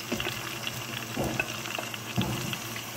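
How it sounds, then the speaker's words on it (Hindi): Tomatoes frying in masala in a pan for a goat liver dish, a steady soft sizzle with a few brief stirring bumps. "अब इसमें टमाटर डाल रही हूँ।"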